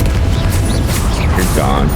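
A Confringo blasting spell in Hogwarts Legacy goes off as a loud, dense, booming game explosion with crackling magical whooshes and rising tones layered on top, continuous across the whole two seconds.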